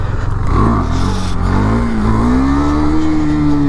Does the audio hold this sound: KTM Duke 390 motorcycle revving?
yes